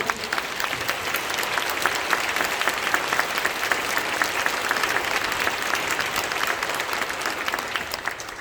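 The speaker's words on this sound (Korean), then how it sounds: "큰 박수 한번 쳐주시고요." Audience applause fills a banquet hall at a Korean War veterans' prayer and appreciation gathering, a continuous, even roar of many hands clapping at steady loudness throughout, with no break.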